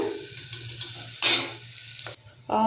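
Onions frying in hot oil in a pan for mint pulao, a close steady sizzle broken by bursts of stirring and scraping of a spoon against the pan, with no talking.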